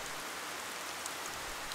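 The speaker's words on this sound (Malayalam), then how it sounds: "അപ്പോഴും മഴ പെയ്തുകൊണ്ടേയിരുന്നു." Steady rain falls in a soft, even hiss, continuous and fairly quiet throughout, with no voices.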